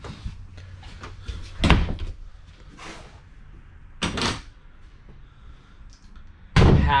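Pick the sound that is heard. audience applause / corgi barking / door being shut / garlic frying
door being shut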